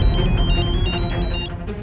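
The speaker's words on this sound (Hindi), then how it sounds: "देवयानी तुम्हारा फोन है।" A telephone rings indoors in a steady repeating electronic trill, loud and close, with no one speaking over it.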